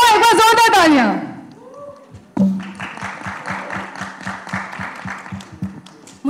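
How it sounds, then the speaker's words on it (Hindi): A crowd at a Dream Girl 2 trailer launch event in Chandigarh breaks into applause after a brief voice, the clapping carrying on steadily and fairly loud for several seconds. "एक बार जोरदार तालियां."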